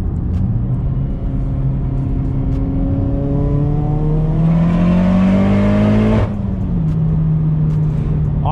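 A car engine revs loud and close while shifting from third to fourth gear, pitch climbing steadily through third, then a brief dip at the shift and a lower steady drone in fourth, with no voices.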